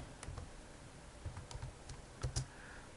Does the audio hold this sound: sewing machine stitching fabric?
no